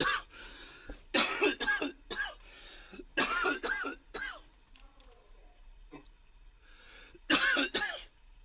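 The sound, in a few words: coughing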